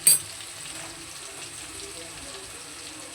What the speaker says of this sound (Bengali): আলুটাকে একটু লাল লাল করে ভেজে নেব।